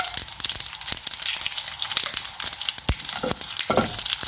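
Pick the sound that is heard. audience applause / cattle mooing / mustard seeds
mustard seeds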